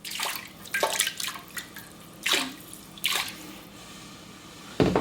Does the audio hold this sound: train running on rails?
no